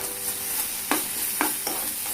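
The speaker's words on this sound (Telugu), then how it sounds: "అల్లం వెల్లుల్లి పేస్ట్ వేసుకున్నాము. వేసుకొని ఇది కూడా బాగా ఫ్రై చేసుకున్నాము." Ginger garlic paste frying in a pan for a rajma masala curry, a steady sizzle broken by three sharp scraping stir strokes, close and fairly loud with no talking.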